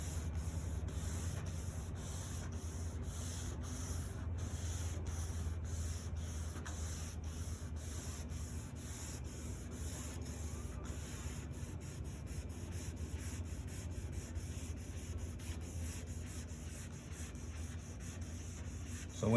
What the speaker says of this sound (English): we're just trying to let the sandpaper level the surface